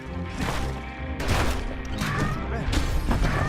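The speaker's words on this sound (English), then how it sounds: "Nice spread shotgun." Shotgun blasts in the video game Bastion, a spread shotgun booming in repeated heavy bursts over dense game music and effects, loud and close, with crashes and impacts between shots.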